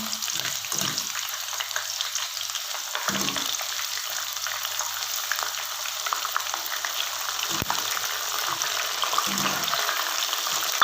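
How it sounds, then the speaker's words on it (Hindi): Chopped onion with two green and two red chillies frying in a pan, a steady broadband sizzle running throughout with a few soft stirring knocks, close and fairly loud, no voices. "इसको सिर्फ हम थोड़ा सा ब्राउन करेंगे, ज़्यादा नहीं।"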